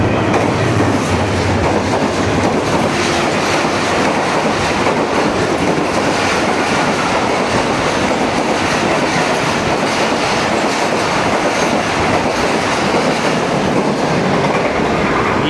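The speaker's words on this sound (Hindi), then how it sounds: "आप कराकरम एक्सप्रेस ZCU 30 102 किलोमीटर्स की रफ़्तार से गुज़र रही है।" The Karakoram Express passenger train races through Jung Shahi station at about 102 km/h: a loud, continuous roar of wheels and rattling carriages with steady clickety-clack, close and sustained throughout, with no voices.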